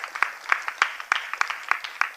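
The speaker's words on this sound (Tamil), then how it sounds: "நீங்கள் எல்லாருமே அவங்களுக்கு ஒரு கரகோஷத்தை கொடுத்துருங்க" Steady rhythmic clapping from an audience at a Bharatanatyam dance program, about three claps a second, sharp and fairly close, keeping an even beat throughout.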